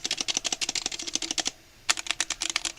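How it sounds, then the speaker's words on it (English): Rapid clicky keystrokes on a mechanical keyboard, close and crisp, in two dense bursts separated by a short pause. "Very distinct sound profile that you can get with typing on this keyboard too."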